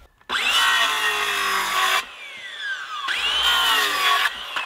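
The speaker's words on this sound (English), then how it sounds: "I used my angle grinder and had a really aggressive sanding disc on it." Angle grinder fitted with an aggressive sanding disc working a chunk of walnut, a loud close whining grind in two long passes separated by a quieter spin-down, with no talking.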